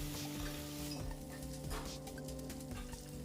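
Chopped onion fries with spices in a pan for mint pulao, a quiet steady sizzle broken by scraping stirs of a spoon against the pan and occasional light metallic clinks.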